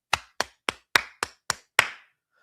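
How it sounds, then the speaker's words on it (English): Seven sharp hand claps ring out one after another at an even, deliberate pace, close and crisp with short echoing tails, then stop. "But we got to start clapping"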